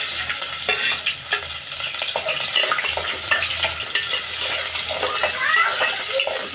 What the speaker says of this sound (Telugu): ఇప్పుడు బాగా కలుపుతూ వేయించుకోవాలి.